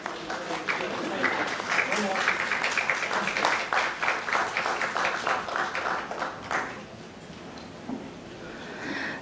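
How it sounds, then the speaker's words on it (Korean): Audience applause at the 2019 Jeju Forum peace city session in Jeju, a steady wash of clapping sustained for several seconds before thinning out near the end. "네, 큰 박수 부탁드리겠습니다."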